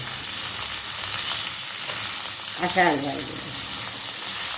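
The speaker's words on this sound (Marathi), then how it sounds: "हिरव्या मिरच्या 2 आणि कोथिंबीर आणि याला असं हलवायचं" Green chillies and coriander stir-frying in a pan for a Marathi besan and drumstick recipe, giving a steady soft sizzle with a brief scraping stir in the middle.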